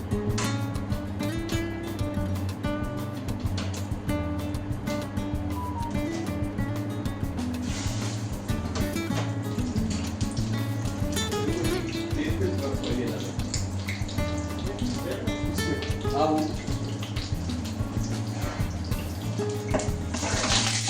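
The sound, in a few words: chicken breast frying in hot oil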